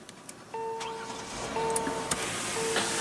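A 2015 Kia Cadenza's 3.3 liter V6 engine cranks and starts with push button ignition, then settles into a steady idle hum with a faint whine, heard close with no talking.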